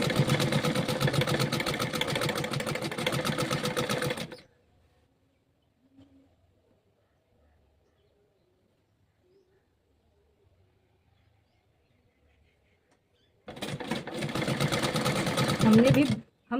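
A sewing machine runs in a steady fast rattle while stitching the pocket side seam of an A-line kurti, stopping for a long near-silent pause before starting up again, close and loud.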